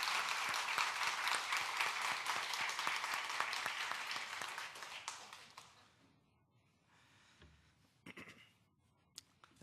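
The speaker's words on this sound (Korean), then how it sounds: "우리 큰 박수로 우리 형제들 좀 축복하겠습니다." Applause from a church congregation honouring visiting members at a third-anniversary Sunday service fills the hall for about five seconds, dense and steady, then thins into scattered claps and a few louder hand taps.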